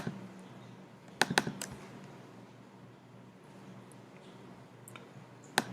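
Computer mouse clicks while working in VirtualBox settings, a few close, crisp clicks in a short cluster, then a pause and one more click, in a quiet room.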